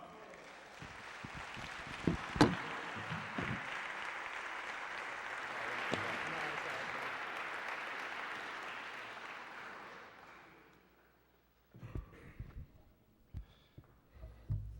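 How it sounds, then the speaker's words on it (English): An audience bursts into applause to welcome a speaker at a lecture on dialogue and management, building quickly, holding for several seconds, then fading out, followed by scattered bumps and handling noises. "Let's welcome with a round of applause, Brother Michael Muhammad."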